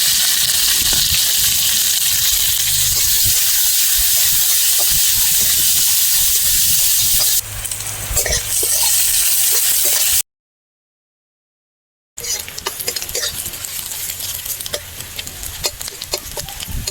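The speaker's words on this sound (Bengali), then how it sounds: "পেঁয়াজের রং সোনালি হওয়া অবধি ভেজে নেব।" Chopped onion fries in oil with whole cumin seeds in a wok, giving a loud, steady sizzle and hiss with stirring scrapes, broken by a short silent gap before the frying resumes.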